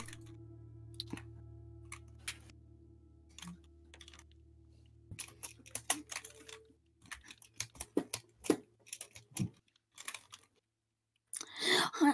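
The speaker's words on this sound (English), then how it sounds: "I hear AK's keyboard." Computer keyboard clacking heard faintly over a game-night voice chat, with sparse scattered keystrokes that grow into denser bursts of typing toward the end against low background hum.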